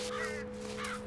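Crows cawing in the video game Mental Hospital 6, two harsh caws over a steady droning background, fairly faint.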